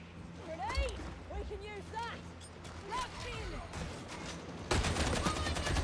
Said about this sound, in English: Why is homie shooting sideways?